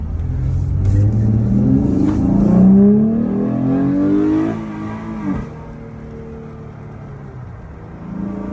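A 2016 Dodge Charger 3.6L with a Borla S exhaust revs up during a road drive, the engine note climbing loudly then easing off into a lower cruising drone.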